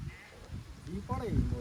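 Sheep being washed near a river bleat close by, with a few wavering calls rising over murmured talk and the background noise of flowing water.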